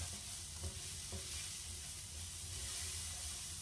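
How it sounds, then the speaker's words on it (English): Ingredients for a rabbit stew are stirred in a pan, giving a steady hissing sizzle with a few soft scrapes of a utensil near the start, fairly quiet and without talk. "I'm just going to give that a quick stir around"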